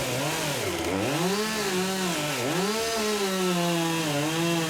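A Husqvarna 550 XPG Mark II chainsaw cuts into birch outdoors, the engine snarling steadily near the mic and dipping in pitch twice as the chain bogs in the wood before climbing back, with no talking.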